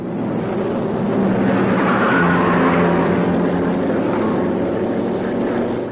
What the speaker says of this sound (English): A complete traffic jam surges forward in a haze of exhaust and tyre smoke